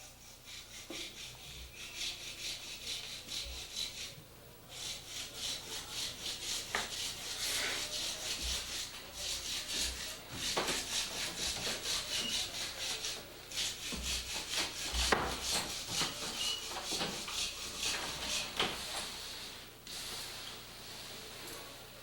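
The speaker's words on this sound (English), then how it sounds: "One of our master carvers will carve an eagle's claw from a portion of a rare large block." Continuous scraping and rubbing of a tool hand carving a soft meerschaum block, with occasional sharp clicks and knocks, close up and fairly steady throughout.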